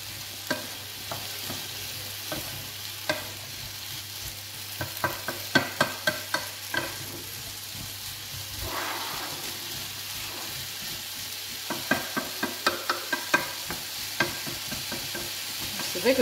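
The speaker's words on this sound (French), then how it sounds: "On mélange." A tortilla mixture of potato and egg stirred while frying in a pan, a low sizzle under repeated scraping and tapping clusters of the utensil against the pan.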